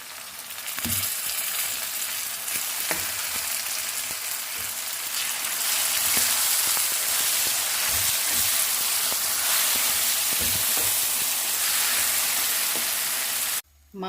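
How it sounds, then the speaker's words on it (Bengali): Dried red chilies, green chilies, chopped garlic, chopped onion and bay leaf fry together in hot oil, giving a loud, continuous sizzle with occasional stirring clinks and scrapes, with no talking, before it cuts off abruptly at the end. "তো এখানে শুকনো মরিচ, কাঁচামরিচ আর রসুন কুচি, পেঁয়াজ কুচি, তেজপাতা দিয়ে দিয়েছি। তো ভালো করে সব একসাথে ভেজে নেব।"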